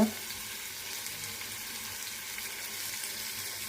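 Drumsticks frying in a pan with softened tomatoes for a sambar-style curry, a steady close sizzle and crackle that continues evenly throughout with no talking.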